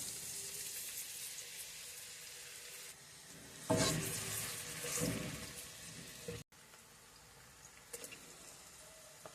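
Chopped onion drops into a hot frying pan of chickpeas and cod, bringing a louder burst of sizzling over a steady background frying hiss, followed by a few scrapes of stirring and a brief sudden cutoff.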